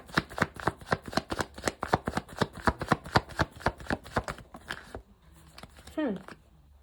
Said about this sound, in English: Let's do a reshuffle.